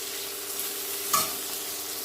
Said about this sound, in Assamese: কোমল হোৱালৈকে পিঁয়াজখিনি ভাজিম।